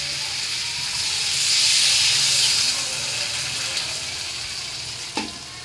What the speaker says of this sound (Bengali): তো আমি এবার জল দিয়ে দেবো।